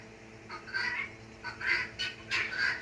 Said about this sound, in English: Silly chickens.